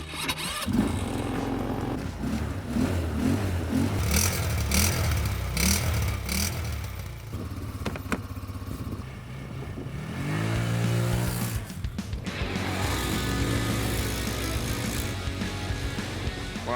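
Linhai Yamaha M200 and Sharmax Activator ATV quad bike engines run outdoors in cold November wind, a steady idling rumble with intermittent revs and a passing rise in pitch, loud and continuous with no talk.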